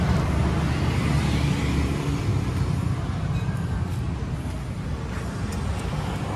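A Toyota Yaris J's exhaust idles with a steady low rumble, close and continuous, with faint road noise around it.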